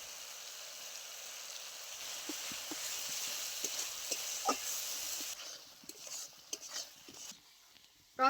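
Spice paste of whole chillies, cumin and mustard sautéed with tomato paste in a pan makes a faint, continuous sizzle with scattered soft scrapes and taps of a spoon stirring, close and quiet, no talking.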